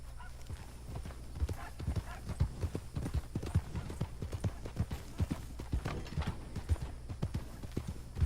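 Horse hooves clip-clop steadily in Red Dead Redemption 2, a brisk, even rhythm of close, crisp hoof strikes on the ground running alone for several seconds.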